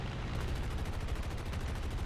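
Aircraft machine-gun fire from an F6F Hellcat in War Thunder, a brief rapid burst of rattling shots, fairly faint and continuous for about two seconds.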